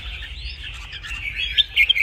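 Two red-whiskered bulbuls fighting give thin, high chirps and twittering calls over a steady low rumble, sharper bursts near the end.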